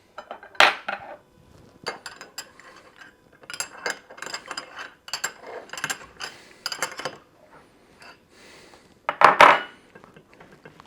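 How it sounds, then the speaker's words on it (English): A metal bolt is screwed into a scale load cell, giving a string of scattered metallic clinks, scrapes and ratcheting clicks, with a couple of sharper clanks near the start and the end and no talking. "screw the bolt into the load cell"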